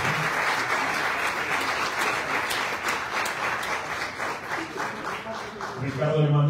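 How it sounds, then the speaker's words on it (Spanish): A hall full of people at a chapter swearing-in ceremony in Colima gives warm, sustained applause for Dr. Raimundo Padilla, thick continuous clapping that stays level throughout and ends as a voice begins to speak. "quiero que me ayuden a dar un fuerte aplauso al doctor Raimundo Padilla por el trabajo que ha hecho"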